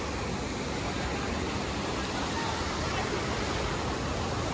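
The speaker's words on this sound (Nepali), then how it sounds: "खोला बढिरहेको रहेछ नि त अहिले" A swollen river rushing past at close range, a dense, unbroken roar of churning water that holds at a constant loud level throughout.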